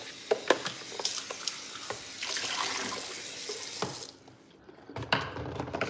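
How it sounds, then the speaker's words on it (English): Tap water runs into a kitchen sink while something is briefly rinsed during breakfast preparation, a steady splashing wash that breaks off near the end before a short final burst. "So just give this a quick rinse."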